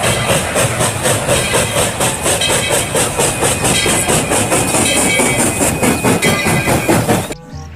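Dense, continuous rattling and clattering of a toy Thomas train rolling along, loud and steady, cutting off abruptly at the end.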